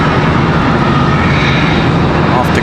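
American Airlines flight 1735 departs Charlotte Douglas airport for Grand Rapids, its engines producing a brief, loud, steady roar while a voice talks over it.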